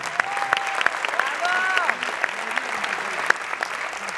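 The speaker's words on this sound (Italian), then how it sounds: "ancora un applauso, dai." A crowd in Milan applauds Ivano Michetti of Cugini di Campagna with steady, moderately loud clapping, while sharp claps stand out and brief whistles or voices rise over it.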